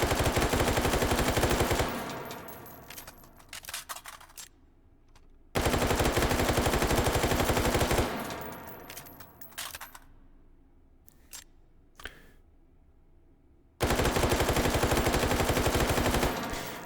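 A Stoner 63 assault rifle in the VR game Hot Dogs, Horseshoes and Hand Grenades fires three long, loud automatic bursts, each cutting off sharply and followed by quieter clicks and handling noises in between.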